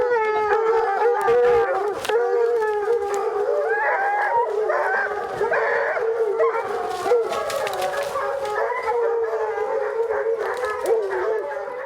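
Bear hunting dogs, just released at a bait, howl and bay together in a loud, steady outdoor chorus with overlapping yips and whimpers throughout.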